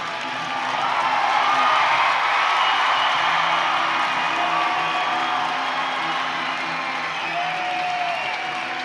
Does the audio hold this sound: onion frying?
no